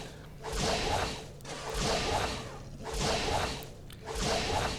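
Laceration Mind Force attack in the game Entropia Universe: four repeated whipping swooshes, each a harsh noisy burst rising and fading, spaced about a second apart, loud and alone.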